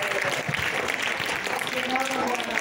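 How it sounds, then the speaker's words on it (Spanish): A crowd gives a loud round of applause after thanking a guest president, a steady broadband clatter of many hands throughout, with voices talking over it. "¡Un fuerte aplauso!"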